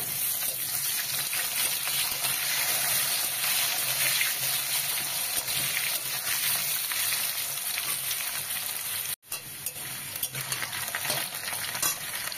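Thinly sliced potatoes fry and are stirred in a pan for a kochur loti curry with lyata fish: a loud, steady sizzle with stirring scrapes and one sudden brief cut before the frying resumes.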